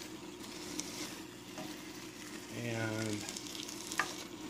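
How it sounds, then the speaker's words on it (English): Chicken tinga simmering in a pot, a soft steady bubbling sizzle with a low gurgling swell in the middle, faint and close, with a brief spoken word. "So anyway, you can see it simmering away"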